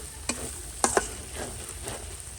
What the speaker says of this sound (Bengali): তেলের সাথে এটাকে ভেজে নিলাম